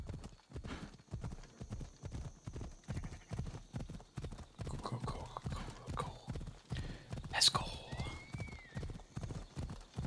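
Hooves of a horse gallop in steady, rapid clip-clop rhythm in the video game Assassin's Creed Odyssey, loud and close throughout, with a brief neigh and distant game voices mixed in.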